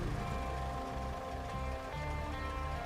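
Steady rain patters in the Roadcraft video game world, a soft continuous hiss with a low rumble beneath, faint and unbroken, no voices over it.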